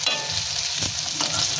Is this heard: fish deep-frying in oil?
yes